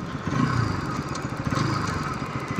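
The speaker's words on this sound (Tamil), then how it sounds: "நம்ம அப்படியே யூட்டன் அடிச்சிருவோம்." A Bajaj Pulsar NS200 motorcycle, 2024 BS7 200cc model, runs steadily as it makes a U-turn, its mid-pitched engine thrumming and clattering close by without a break and with no talk over it.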